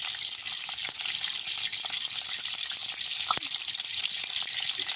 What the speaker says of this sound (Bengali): তেলটা ভালোভাবে তেতে গেলে এর উপরে দিয়ে দেবো আমি একটু সয়াবিন তেল